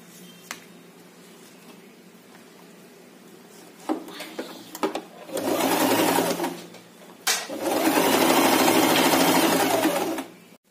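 A sewing machine stitches the strap of a small tote bag in two long, loud runs of rapid mechanical whirring, after faint ticks and handling clicks, with a short pause between the runs.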